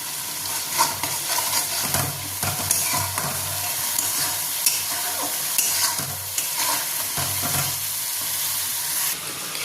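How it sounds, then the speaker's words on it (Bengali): Ginger, garlic and chili paste with salt, chili powder and turmeric fries in a pan, a loud continuous sizzle broken by repeated scraping and clattering stirs with no voices. "এবার ভালো করে আমি কষিয়ে নেব"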